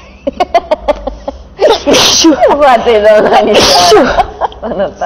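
One loud, close sneeze breaks out in a room amid people chatting in Romanian, with voices continuing around it before and after.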